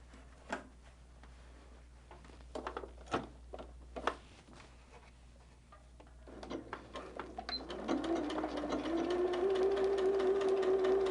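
Sewing machine stitching an appliqué quilt border, preceded by scattered clicks and handling taps, then a sustained close mechanical whir building over the last few seconds.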